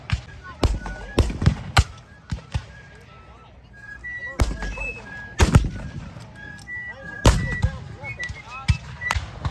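Gunfire at a Civil War reenactment battle, loud irregular cracks of musket fire in scattered bursts and clusters, some near and some distant, with birds chirping and faint voices between shots.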